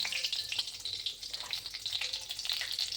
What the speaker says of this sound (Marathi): पहिले मी मोहरी टाकत आहे तेलामध्ये कढीपत्ता टाकत आहे